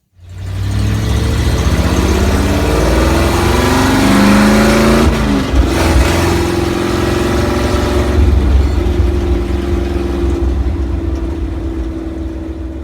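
A 1934 Plymouth Coupe hot rod, built in the 1960s and back on the road after more than 30 years parked, runs loud and close with a rough, throbbing engine note and a few revs that rise and settle.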